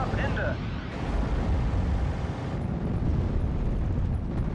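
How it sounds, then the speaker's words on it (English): Bombs from a P-38 strike burst in a continuous, loud rumbling roar against an infantry squad in a Normandy 1944 wartime strategy game, with no clear separate blasts standing out. "Bombing strike from the P-38 going to be coming in onto one of Betts' infantry squads"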